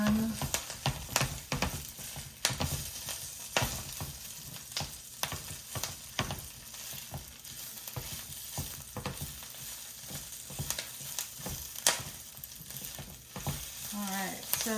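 Kale frying in a hot pan, a steady close sizzle with scattered crackles and pops running throughout, alone with no talking.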